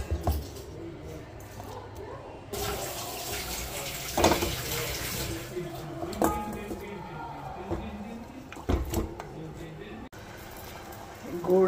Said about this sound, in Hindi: ये मिला दी, देखिए आधा से थोड़ा ज़्यादा पानी,